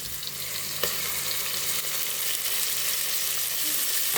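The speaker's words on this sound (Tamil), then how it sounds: "நல்லா வதக்கிடலாம்" Ginger garlic paste sautés in a pan with a steady, close sizzle and faint stirring, continuing evenly throughout with no talking.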